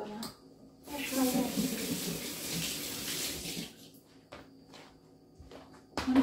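A kitchen sink tap runs for hand washing, the water gushing steadily for nearly three seconds with splashing and rubbing, then shutting off, followed by faint clicks and knocks nearby.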